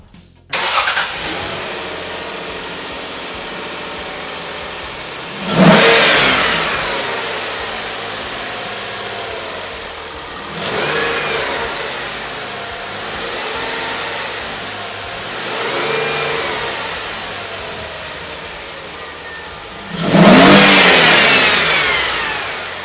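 A Ford Capri V6 engine turns over and settles to a rough idle, then revs in four distinct rising blips spaced several seconds apart, loud and close, with the last rev strongest and no voices.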